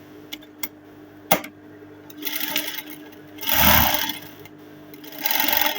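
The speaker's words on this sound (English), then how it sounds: "the only thing I will do now is to sew so that they will become one" A sewing machine stitches pieces of Ankara fabric together, a few sharp clicks and taps first, then bursts of steady mechanical whirring that stop and start, close up with no talk.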